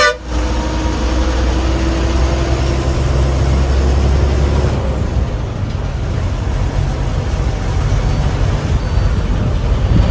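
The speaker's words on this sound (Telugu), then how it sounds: "దీనికి ఆబ్వియస్లీ ఇంజన్ ముంగట్ ఉంటుంది కాబట్టి ఫుల్ నాయిస్ అనేది ఉంటుంది" Inside a moving Ashok Leyland KSRTC bus with a front-mounted engine, a loud, steady low engine drone and road rumble fill the cabin, with a slight shift partway through and no talking.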